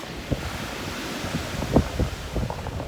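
Sea waves and wind by the shore, a steady hiss of surf and gusty wind buffeting the microphone, broken by a few low thumps and bumps, with no talk.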